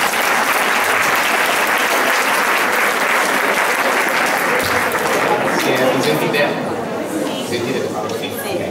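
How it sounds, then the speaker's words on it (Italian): Continuous, dense applause and crowd chatter greet a speaker at a teachers' classroom-management talk, loud and steady before slowly thinning toward the end. "accogliamo con un applauso il nostro relatore"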